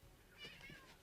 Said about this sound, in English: in the background, that is my cat and dog.